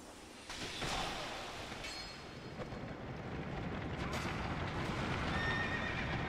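Horse neighing and whinnying with clip-clopping hooves in the Dark Souls II Scholar video game, a loud, continuous game sound lasting several seconds over a dense rumbling backdrop.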